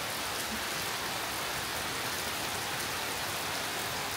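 Hard, steady rain pours down on the Appalachian Trail in a dense, continuous wash with no break and no voices.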